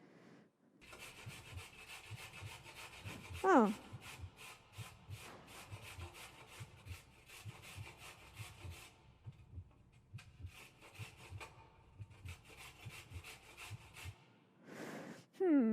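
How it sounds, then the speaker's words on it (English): Carrots being grated make a rapid run of raspy, rhythmic scraping strokes, fairly quiet and close, with brief pauses and a short vocal exclamation near the start. "Hey, here's some grating carrots."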